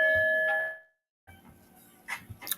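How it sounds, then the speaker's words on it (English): A bell rings at a Mark Wahlberg restaurant, one clear chiming tone that hangs and fades to silence, followed by scattered light clinks and clatter. "We ring bells over here."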